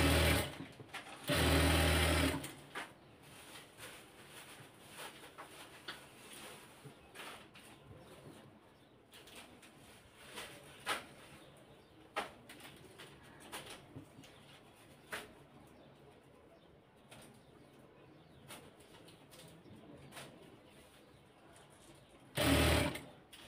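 Sewing machine stitching pyjama fabric in short runs, with a loud burst near the start and another at the end, and quieter intermittent stitching and handling between.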